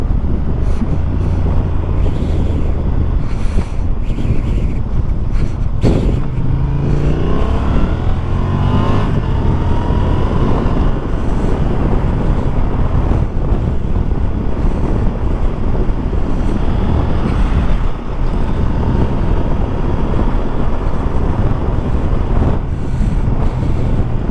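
A Honda Transalp 750 motorcycle being ridden, engine drone buried under heavy, constant wind roar across the microphone, with brief shifts in pitch as it accelerates.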